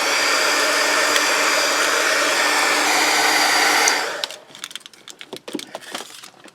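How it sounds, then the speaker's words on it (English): A heat gun blows over embossed tin foil with a loud, steady rushing hiss for about four seconds, then cuts off, leaving light clicks and handling noises. "just run my heat gun over it"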